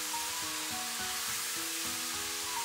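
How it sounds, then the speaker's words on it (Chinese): Spicy chili sauce and bean paste stir-fried in oil over medium-low heat while cooking spicy crab, a continuous soft sizzle with rhythmic stirring scrapes, close and steady, no voices. "一勺香辣酱，开中小火 给它煸炒出红油，"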